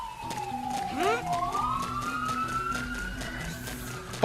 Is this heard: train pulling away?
no